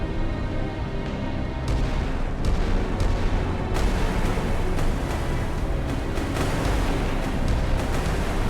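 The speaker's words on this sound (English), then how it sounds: "The captain of the Badra orders both ships to open fire." Naval guns firing salvos from two warships in a Sea Power sea battle, with heavy, loud artillery reports cracking out at irregular intervals over a constant low rumble, without any talk.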